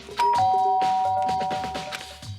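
A doorbell pressed in the Danganronpa video game rings out as a clear, close electronic chime of several ringing tones that fade out together, with no talk.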